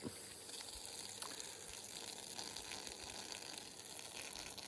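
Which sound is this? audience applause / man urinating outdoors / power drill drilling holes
man urinating outdoors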